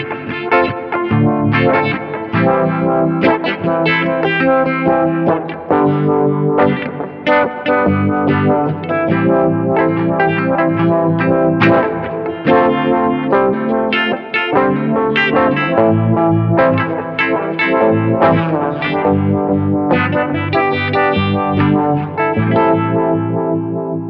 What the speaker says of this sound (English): wah-wah down or up with a filter, so it becomes an auto wah